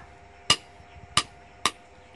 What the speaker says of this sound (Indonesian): Besi ini kan perlu ditukul supaya dia lebih nipis sedikit